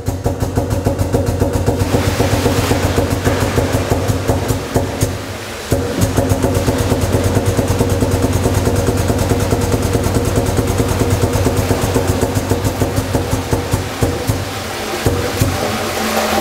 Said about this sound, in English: Wheel the unit in until the drum touches the vessel and then start your tip.